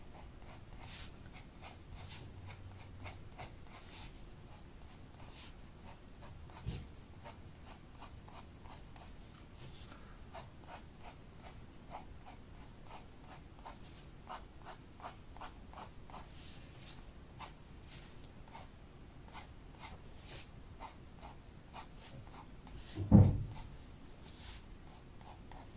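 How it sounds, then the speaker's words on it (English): Colored pencil strokes rasp steadily across a Hanna Karlzon coloring book page, a close, quiet, rhythmic scratching that repeats evenly for a long stretch, with a couple of soft knocks. "let's put in our pencil strokes."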